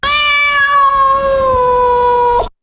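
A synthesized cat meow sample, one long sustained tonal cry with steady harmonics that holds for about two and a half seconds, then cuts off abruptly, followed by a brief click.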